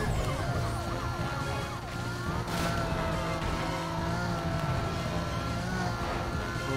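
Police car sirens wailing in a chase in Need for Speed Most Wanted, several overlapping sweeping tones over steady engine and road noise, loud and continuous throughout.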